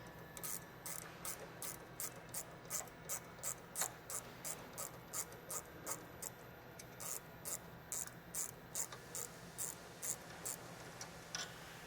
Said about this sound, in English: now with the T27 Torx bit, I've got a bolt right here. I'm going to totally remove it all the way